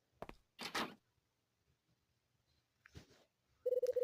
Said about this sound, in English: opens the door to see who it is and steps out into the hallway